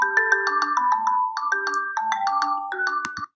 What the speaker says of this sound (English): So here is the music. I'm just going to play that so you can hear.